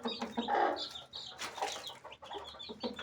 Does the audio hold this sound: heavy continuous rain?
no